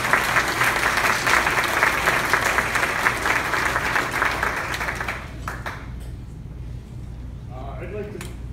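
Steady applause from a large crowd at the 2021 NT Football Hall of Fame dinner greets the presenters, dense and even for about five seconds before fading into scattered claps and room murmur.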